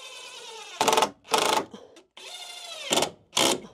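A power drill-driver runs screws in to fix attic lights, giving several high, whirring bursts that rise and stop abruptly with brief pauses between, close by and with no talk.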